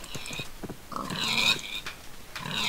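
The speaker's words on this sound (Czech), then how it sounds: "Tam jsou nějaký prasata." Pigs grunting and oinking in the video game Minecraft, a few short close snorts and squeals in quick succession over quiet background.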